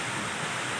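Steady hiss of heavy typhoon rainfall in Masbate during Typhoon Kristine, a constant wash of broadband noise with no breaks, moderately loud throughout.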